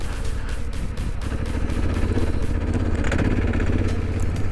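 A Yamaha Tenere motorcycle being ridden through sand, its engine churning in a loud, close, uneven drone with rhythmic pulsing and clattering.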